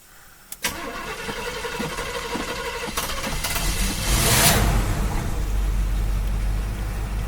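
A 1972 Chevrolet Camaro barn find, left sitting for 19 years, cranks with a few clicks and starter whirring, then fires and roars up before settling toward a loud rough idle, heard up close.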